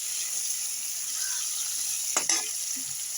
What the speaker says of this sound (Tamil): எண்ணெயில் போட்டு பூண்டு வெங்காயம் போட்டு கத்திரிக்காயை நல்லா வதக்கணும்